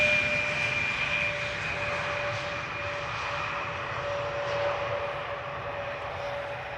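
Aircraft arriving at Amsterdam Schiphol on a flight from Manchester, a steady distant jet engine roar with faint whining tones, holding level throughout with no voices.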